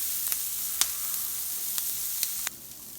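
Onions sizzle steadily in a pan for a patty melt, a close, even hiss punctuated by a few sharp crackles and pops, then quieting slightly toward the end.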